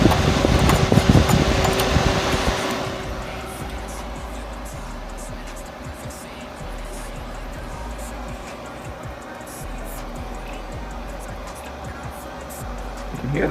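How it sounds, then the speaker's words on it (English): Old Medion MT6 Pentium 4 desktop PC with a GeForce 4 Ti: a loud fan rush at power-on settles into a steady mechanical whir, with faint intermittent ticks from the hard drive underneath. "You can hear the hard drive clicking."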